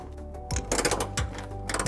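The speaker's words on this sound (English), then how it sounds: "now using a 9/16 socket, we're gonna go ahead and torque the passenger side bolts" A 9/16 socket wrench ratchets while torquing the passenger-side trailer hitch bolts on a 2013-2023 Nissan Sentra. Quick bursts of close, sharp ratcheting clicks are broken by short pauses.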